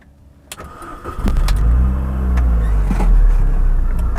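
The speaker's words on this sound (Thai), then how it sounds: "เสียงเครื่องยนต์" A 2006 MINI Cooper S (R53) engine cranks with a few clicks, then catches and settles into a steady, loud idle rumble.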